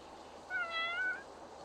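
A cat meows once in the Roblox game Livetopia during a Christmas-themed winter event, a single drawn-out mid-pitched call rising over low steady background hum.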